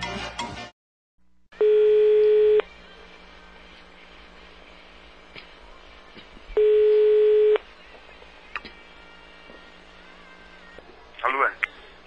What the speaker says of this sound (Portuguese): Eu estou ligando pra você, Liminha